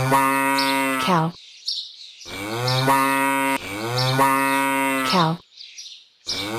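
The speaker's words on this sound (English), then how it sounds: "Cow." A cartoon cow in a children's animal game moos three times in a row, each low and drawn out, loud and close, with brief gaps between calls.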